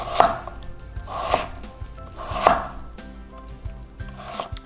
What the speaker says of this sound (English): You want to cut the potato in half.